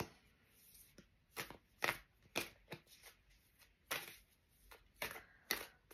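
Tarot cards being drawn and handled, with a series of crisp, close card snaps and slides in irregular bursts over a quiet background, no speech.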